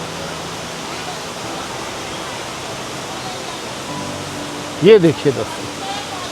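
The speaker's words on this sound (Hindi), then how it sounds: "कितना कितना सुंदर है ये वाटरफॉल" A monsoon-season waterfall in Odisha roars as a steady broadband wash of falling water throughout, with someone speaking briefly near the end over the constant rush.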